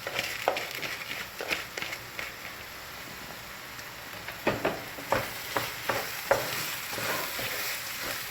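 Rice is sautéed with onions and filling ingredients in a pan for Black Sea stuffed collard rolls, giving a steady soft sizzle broken by repeated close scraping stirs of a spoon.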